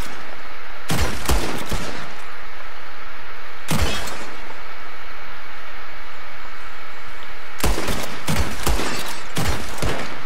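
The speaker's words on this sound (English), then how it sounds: "Whoever shoots one of these bottles wins." Gunshots fired at bottles in Red Dead Redemption 2, loud close bursts of shots in three clusters: a quick volley near the start, a single blast in the middle, and a rapid string of shots near the end.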